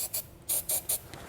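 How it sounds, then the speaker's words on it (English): Spray lubricant is sprayed into holes in the frame rail of a 2015 Ford Transit T150 in several short, close, hissing bursts, evenly spaced with brief pauses. "So I'm just going to spray some spray lubricant in there."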